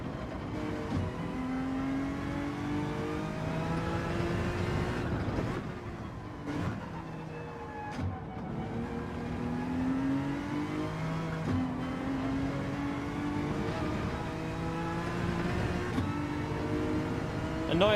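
A Honda NSX race car engine in Gran Turismo 7 drones and revs continuously, rising and falling through gear changes over a long, steady stretch at moderate volume, with no talk.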